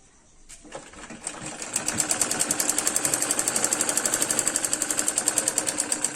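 Close, loud sewing machine stitching a Punjabi semi patiala salwar, starting up and settling into a fast, steady rhythmic run that continues to the end.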